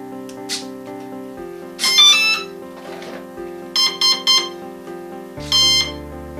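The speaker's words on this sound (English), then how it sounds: "Those beeps are the ESC letting me know that everything's okay." A series of short electronic beeps and tones in varying pitches from the electronic speed controller of a Dynam Hawksky V2 radio-control trainer plane, some in quick clusters, over a steady low electronic hum.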